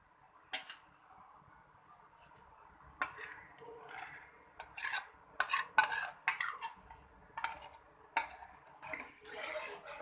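A spoon stirring condensed milk and sugar in a pan for sheer khurma, with irregular metallic scrapes and clinks against the pan, close and fairly quiet, with no voices.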